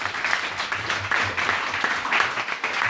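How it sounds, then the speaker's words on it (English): Applause for the fact checkers at a referendum debate, a modest audience clapping in a loose, fluttering rhythm with individual claps audible, at a moderate, fairly close level. "Can we give a round of applause for them, please?"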